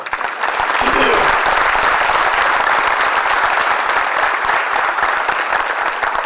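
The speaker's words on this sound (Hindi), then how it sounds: "ताली बजाना तो जरा दुखी आत्मा जैसा मत बजाओ," Loud, sustained applause from a seated audience at a business talk, dense and even throughout with sharp individual claps cutting through the wash.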